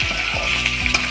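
Chicken tikka boti pieces frying in a pan with soy sauce, salt and black pepper, giving a steady close sizzle with a few soft stirring scrapes and clicks.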